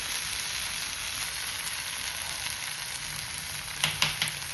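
Chicken sizzles steadily in a frying pan for a New Year recipe, a constant close hiss with a few stirring clacks of a utensil near the end, with no talking.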